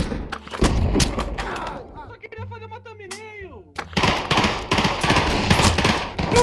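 Rapid bursts of gunfire in the virtual reality game Pavlov crackle loudly, broken by a pause with electronic tones, then another dense volley of shots with voices mixed in.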